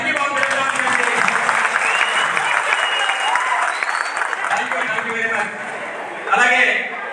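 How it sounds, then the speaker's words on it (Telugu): Sustained audience applause fills a community caste-group meeting, dense and steady clapping from a crowd, swelling briefly louder near the end. "టోటల్ మద్దతు పూర్తిగా చప్పట్లు కొట్టి వారికి సంఘీభావం తెలుపుతామని"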